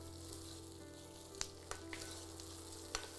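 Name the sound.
onion, garlic and cashews sautéing in oil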